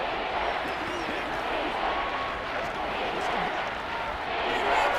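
Stadium crowd roar in Madden 23 during a Raiders vs Saints football game, a steady, dense wash of cheering and noise with a commentator's voice over it.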